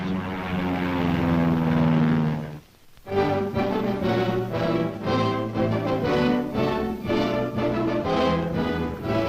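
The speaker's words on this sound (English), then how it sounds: "Meanwhile, overhead, Air Force and Marine Corps planes support the ground troops." Propeller-driven Air Force and Marine Corps military planes flying overhead, a loud, rich droning engine roar that cuts out sharply, then returns as a pulsing, throbbing multi-engine drone, no talk.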